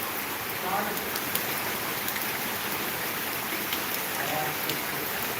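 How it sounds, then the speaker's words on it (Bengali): Heavy rain pours steadily over flooded streets and lanes in Dhaka, a dense unbroken wash of hiss with no pauses or voices. "বৃষ্টি যেন থামছেই না থামছেই না"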